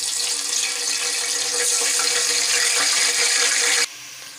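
Ginger garlic paste hits a pot of hot oil for beef pulao, giving a loud, steady hissing sizzle that stops abruptly near the end.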